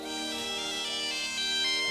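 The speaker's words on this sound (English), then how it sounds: "It's my dad's satellite phone." Satellite phone ringtone jingle in a Lego Jurassic World cartoon, a sustained electronic tone with stacked steady pitches ringing alone, clear and close, slightly swelling toward the end.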